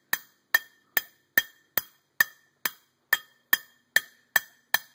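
A soft hammer taps bearings into a 12-inch magnet motor hub in twelve evenly spaced, sharp metallic knocks about half a second apart, close and clear, each ringing briefly.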